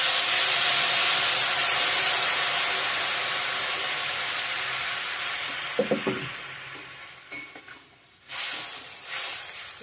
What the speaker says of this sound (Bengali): মশলার সঙ্গে জল দিয়ে দিব এখন, গরম জল।